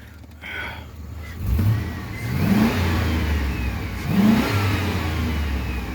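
A 2004 Chevrolet Silverado 2500HD truck engine idles, then is revved in a few sharp rising blips, each settling back to a rough, low idle, loud and close.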